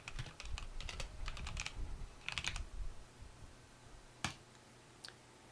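Fingers typing on a computer keyboard, a quick close burst of soft key clicks, a short pause, another flurry, then a couple of isolated louder taps near the end.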